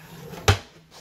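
A hotel room drawer slides open or shut with a single sharp wooden knock in a quiet room, close and brief, with faint room noise before and after.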